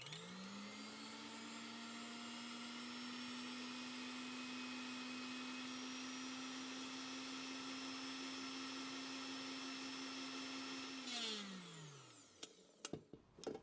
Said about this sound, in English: Turn off electric mixer